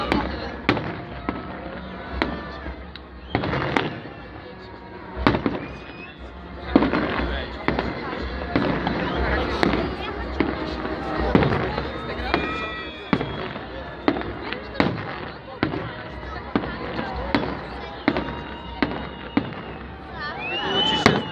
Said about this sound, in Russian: Ура! Салютик.